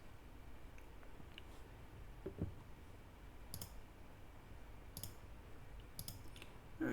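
A computer mouse gives a few faint, sharp clicks spaced seconds apart over a quiet room hiss, with no talking.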